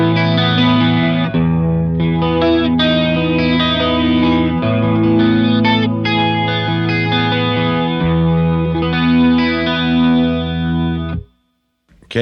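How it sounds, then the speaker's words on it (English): A Line 6 HX One Trinity chorus shimmers over sustained electric guitar chords, thick and wavering, with several chord changes before ringing out and cutting to near silence. "Next is my Trinity chorus. So this is just a nice old chorus if I need it for a song."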